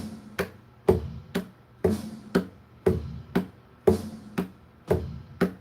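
Fingers tap out a steady guitar-practice beat, about two sharp knocks per second, close and clear with nothing else playing.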